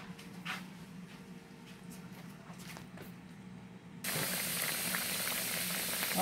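Quiet clicks and faint shuffling give way to a sudden, steady loud sizzle of chicken and spinach patties frying in a hot pan.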